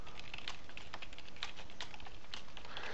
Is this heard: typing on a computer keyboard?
yes